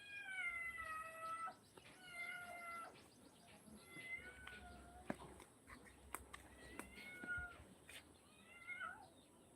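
A pet cat named Ming Ming meows and cries repeatedly in plaintive, drawn-out calls, a string of loud wails separated by short gaps, with occasional sharp knocks in the background.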